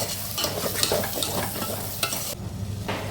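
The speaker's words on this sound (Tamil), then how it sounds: "எல்லாத்தையும் ஒன்றா சேர்த்து கொஞ்சம் பச்சை வாசனை போகிற அளவுக்கு வதக்கிக்கிங்க" A masala mixture sautéing for barley porridge (nonbu kanji), crackling and sizzling steadily in a pan with brief stirring scrapes, close and loud throughout, no voices.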